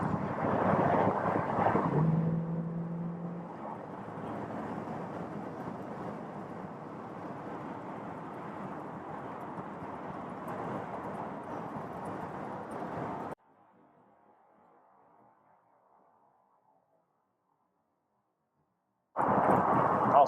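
A 1966 Ford Mustang convertible with a 289 V8 cruises at about 60 mph, a steady low engine drone mixed with wind rush for several seconds, then briefly drops away before the roar returns.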